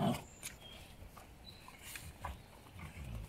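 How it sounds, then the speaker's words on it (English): Presa Canario puppies bark and whimper faintly in short scattered bursts against a steady background hiss, with no voices present. "They keep barking and barking."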